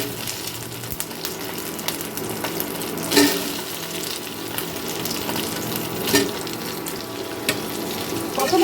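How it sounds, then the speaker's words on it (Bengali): Cut potatoes stir-fried in hot oil with ginger in a pan, a steady close sizzle and crackle with occasional scraping stirs and clunks, no talking. "আলুটাকে আমি একটু এই তেলের সাথে একটু কষিয়ে নেব"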